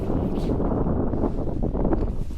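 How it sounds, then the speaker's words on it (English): Steady wind buffeting the microphone at Hastings, a continuous low rumble and rush with no voices, loud and close throughout. "As you can hear, it was very windy"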